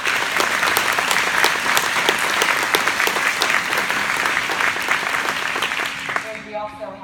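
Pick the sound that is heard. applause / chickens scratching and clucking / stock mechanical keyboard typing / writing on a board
applause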